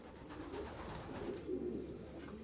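Racing pigeons coo in a loft, a soft, steady murmur of overlapping coos over a low background hum, with no voices.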